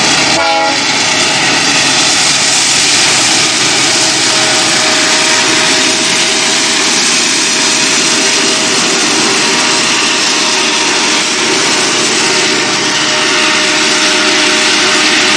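Loud, continuous roar of a long freight train hauled by three coupled locomotives passing close by, with steady wheel and wagon rumble and a faint sustained tonal whine throughout, no voices.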